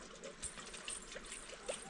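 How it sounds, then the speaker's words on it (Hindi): Water trickling and flowing from a supply outdoors in a hill village, a soft continuous splashing stream with faint bubbling, heard close but at low level. "और आज ना फुल पानी आ रहा"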